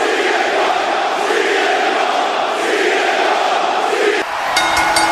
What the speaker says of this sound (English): CM Punk chants are as loud as they can possibly be.